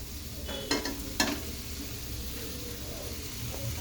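A pot boiling on a stove gives a steady, close bubbling hiss, with two brief clinks early on.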